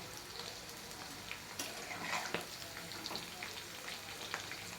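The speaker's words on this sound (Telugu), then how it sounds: "ఇలాగైతే వేపుకోవాలండి ఉడకబెట్టిన కాకరకాయలు" Boiled bitter gourd pieces frying in a pan, a dense even hiss of hot oil with occasional faint clinks of a stirring spoon, continuous and close.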